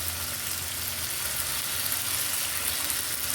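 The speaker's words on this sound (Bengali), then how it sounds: "আলুটাকে বেশ লালচে করে আমাদের ভেজে নিতে হবে।" Small cut potato pieces frying in oil in a pan, a dense steady sizzle with crackling spitting throughout, close and continuous with no talking.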